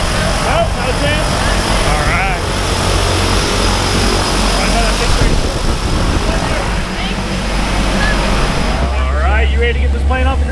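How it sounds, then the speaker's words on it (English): A skydiving plane's propeller engine drones loudly and continuously near the ground before takeoff, with people talking over it throughout. "You ready to get this plane off the ground?"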